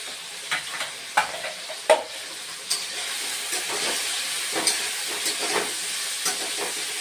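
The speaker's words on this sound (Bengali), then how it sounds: "এখন এই আলু বেগুন শিম কষিয়ে নিবি" Potato, eggplant and beans stir-fried in a pan, a continuous sizzle overlaid with scattered spatula scrapes and taps, some sharper knocks early on, heard close with no talk.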